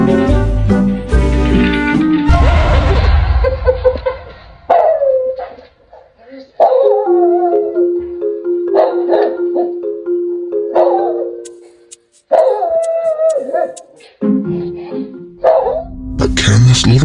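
A small pug howls, whimpers and yips at a doll, loud and close, in repeated drawn-out bursts with short quiet gaps between them.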